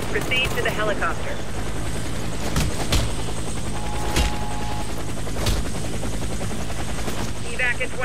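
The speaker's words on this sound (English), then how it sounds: "helicopter." Helicopter rotor thrum in the shooter game Warface, a steady drone running throughout behind sharp bursts of gunfire and a few booms, with voices speaking over the action.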